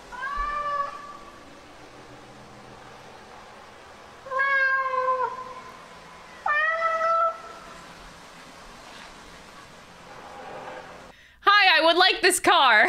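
A cat meows several times in drawn-out, rising and falling calls spaced apart, then a burst of shrill, wavering cries at the end.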